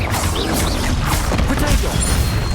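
Confringo and Bombarda blasting spells going off in the Hogwarts Legacy wizard game, a dense, loud, continuous wash of crashing explosions and impacts in the middle of a duel.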